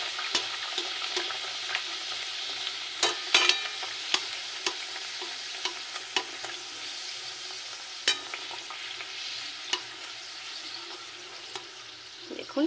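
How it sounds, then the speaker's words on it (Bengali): Green pea kochuri fry in hot oil in a pan, a steady close sizzle and crackle running throughout, broken by occasional soft clicks and taps of a utensil, with no voices. "একই প্রসেসে আমি আরেকটিও আপনাদেরকে ভেজে দেখাচ্ছি।"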